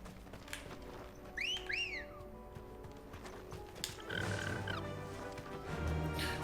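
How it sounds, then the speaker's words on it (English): A two-note rising-falling whistle call in Final Fantasy XVI, set in a village, sounds twice amid quiet ambient game noise, followed by a softer tonal chirp and low rumble. "Why does that sound like a cat calling whistle?"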